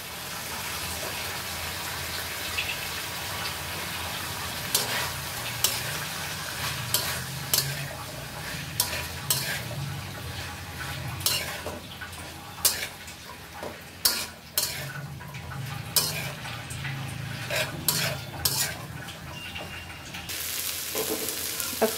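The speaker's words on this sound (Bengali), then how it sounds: "কেটে ধুয়ে রাখা কচুরলতিগুলো দিয়ে দিলাম।" Sliced taro stolons sizzle steadily as they stir-fry in a pan, with repeated clinks and scrapes from a utensil against the pan and no speech.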